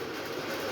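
A Lionel 2755 model steam locomotive pulling New Haven passenger cars runs on track around a curve, giving a steady continuous rumbling whir, close and even throughout.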